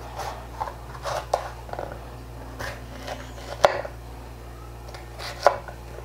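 A knife chops red bell pepper into cubes on a cutting board, giving a few sparse, close taps and thuds at irregular intervals over a low steady hum.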